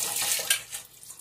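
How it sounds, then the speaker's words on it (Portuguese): Water runs through a pressure cooker's valve in a kitchen sink while it is checked for a blockage, making close splashing and gurgling that swells and fades in short bursts, with no speech. "aí botar água aqui pra ver se vai sair água, se tá desentupido"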